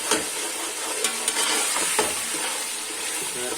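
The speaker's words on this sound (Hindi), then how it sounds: "और टमाटर भी डाल दिए अच्छे से, टमाटरों को भून लेते हैं अच्छे से" Tomatoes fry in a hot pan with a constant bright sizzle, as a spoon stirs and scrapes through them with a few soft knocks against the pan, close by and without talk.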